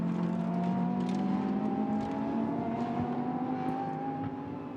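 Lamborghini Super Trofeo race cars at the Nürburgring drone past, a steady high engine whine rising slightly in pitch as the cars accelerate, sustained and fairly close throughout.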